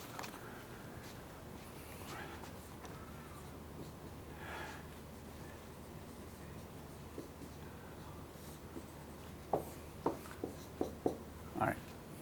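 Chalk or marker scratching on a board during a physics lecture: a quiet room tone, then a run of short, sharp strokes and taps near the end, with no talking over them.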